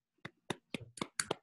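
Online colloquium attendees clapping after a talk on CRISPR gene editing: five sparse, distinct claps in quick succession, faint and thin as if through a laptop microphone, ending in a quick double clap.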